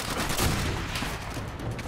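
Machine-gun fire in the video game Call of Duty: World at War, a dense, continuous roar of rapid shots with overlapping battle gunfire and no pauses.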